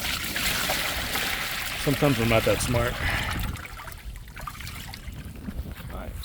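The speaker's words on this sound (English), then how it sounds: "Now I just have to add my water." Water pours and splashes steadily into a daphnia culture tank while someone talks over it.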